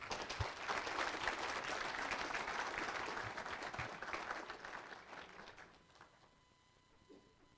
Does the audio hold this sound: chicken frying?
no